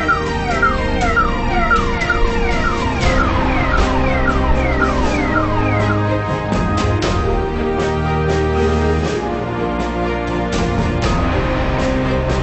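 An ambulance siren wails continuously through dense road traffic, its rising and falling tone loud and close for the whole stretch, with engine rumble and occasional horns underneath.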